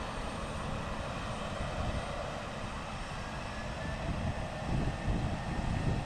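An Alaska Airlines jet on approach at Portland airport gives a steady distant engine roar that swells slightly near the end, with no voices.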